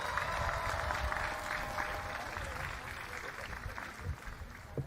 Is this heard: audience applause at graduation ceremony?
yes